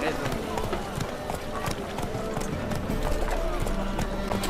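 Roach, a horse in The Witcher 3, clip-clops along with steady hoofbeats under a busy ambient game soundscape while voices talk over it.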